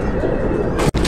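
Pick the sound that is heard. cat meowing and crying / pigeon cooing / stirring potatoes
pigeon cooing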